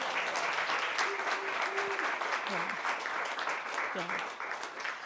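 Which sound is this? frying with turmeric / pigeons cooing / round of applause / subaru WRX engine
round of applause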